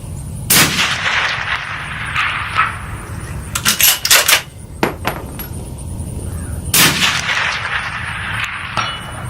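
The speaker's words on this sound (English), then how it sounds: "It's the first time I'm shooting at 500 yards." A Ruger Precision Rifle in 6.5 Creedmoor fires at steel targets 500 yards out, giving several sharp, loud cracks spread across the stretch, some in quick clusters, with metallic clangs and a high steady ringing tone in the background.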